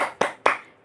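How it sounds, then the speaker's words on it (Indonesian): A group at a biMBA curriculum training session claps in unison, two sharp, close claps spaced about a quarter second apart, each ringing briefly. "kita tepuk tangan semangat dulu biar hari-hari kita semangat terus dan bahagia"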